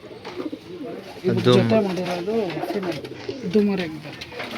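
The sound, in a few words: old line pigeon cooing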